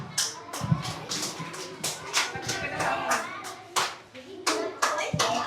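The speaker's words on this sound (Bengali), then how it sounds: "জোরে হাততালি।" Children clap at a primary school Children's Day prize-giving, a brisk uneven patter of hands close by with a few sharper claps, and faint young voices mixed in.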